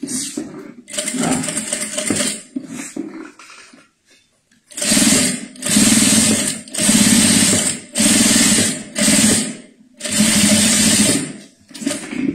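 A sewing machine stitches a seam on a synthetic toiletry bag in a run of loud, rapid whirring bursts separated by short pauses, with someone speaking quietly between them.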